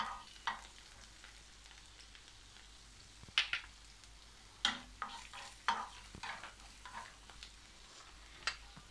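Finely chopped garlic fries in half a spoon of oil, a faint low sizzle broken by several sharp spoon scrapes and taps spread out unevenly.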